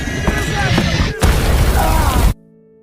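A big explosion booms out in a World War II Red Army sniper story, loud and broadband, with a second heavy blast at about the midpoint, then cutting off abruptly into a quiet tone.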